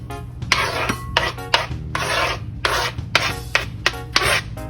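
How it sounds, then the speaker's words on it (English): Corn kernels are sliced off the cob in a rapid series of close, loud rasping knife strokes, with a low hum running underneath throughout. "just like this until the kernels are all off of the corn"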